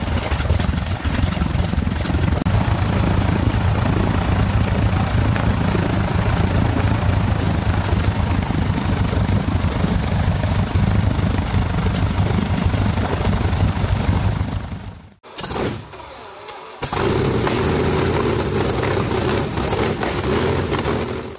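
An old 16-liter Pratt & Whitney aircraft engine, rated 300 to 450 horsepower, runs with a loud, steady low rumble that drops out briefly near the end, then resumes.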